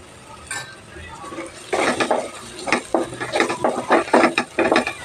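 Ginger-garlic paste and spices fry in a pan for fish curry while a spoon scrapes and clatters against the metal in quick, irregular strokes, close and fairly loud.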